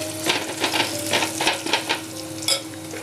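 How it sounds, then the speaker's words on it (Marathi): Curry leaves and garlic sizzle in hot oil for a mango raita, a steady crackling fry with bursts of spattering and stirring, close and fairly loud, with no talking. "आता हा कढीपत्ता घालते. चांगला आपण भाजून घेऊया हे तेलामध्ये."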